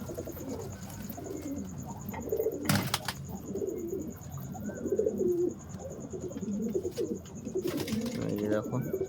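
Domestic pigeons in a home loft coo softly and repeatedly close by, with a couple of brief rustling bursts, while a person talks over them throughout.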